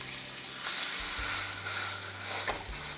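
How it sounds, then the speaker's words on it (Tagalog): A ribeye steak laid into a hot pan, breaking into loud continuous sizzling and frying crackle, with a brief thump and a surge of spitting fat as the meat settles, no talking. "mainit na yung ating kawali. So, ngayon, ilalagay na natin yung ating steak."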